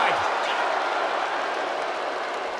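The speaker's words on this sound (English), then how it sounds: "What a raucous crowd here tonight." Loud, dense crowd roar filling a wrestling arena during a casket match, a steady wash of cheering and shouting throughout with no pause.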